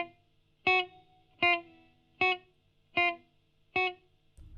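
Five short finger-exercise notes are played one after another at an even pace, each with a sharp attack that dies away quickly because the sustain is not held, with near silence between the notes.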